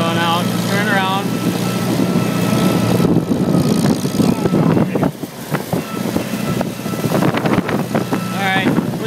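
A Farmall Super C tractor engine runs steadily near the microphone, with wind noise over it, while people talk over the engine.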